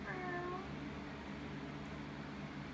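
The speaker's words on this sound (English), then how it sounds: "Oh, my cat's going crazy." A pet cat gives one short, close meow indoors, heard over a low background hum.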